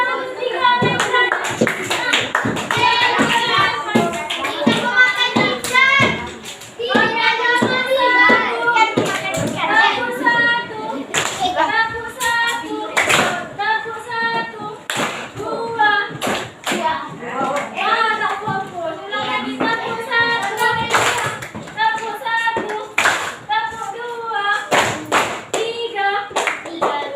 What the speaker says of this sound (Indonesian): tepuk tangan untuk tiga orang yang benar